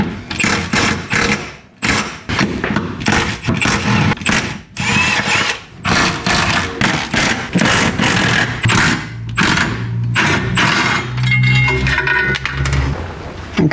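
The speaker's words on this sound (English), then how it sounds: "we're going to undo all of these bolts" A power tool whirs in repeated loud bursts, undoing the 13 mm cross member bolts on a B-series Ford Falcon, with brief pauses between bolts and a metallic clink near the end.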